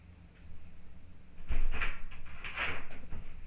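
A bedroom door swings open at home, a couple of soft knocks and creaks close by, with faint room noise and no talking.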